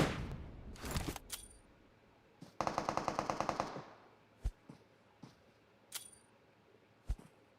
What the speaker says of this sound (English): Putting the shots down on Fearless with a 3x Scar L.